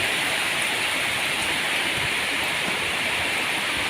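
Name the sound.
rain falling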